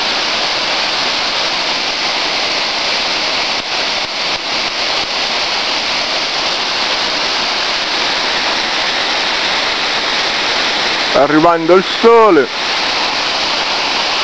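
A waterfall below a dam on a river pours a steady broadband roar throughout, with someone briefly speaking over it near the end.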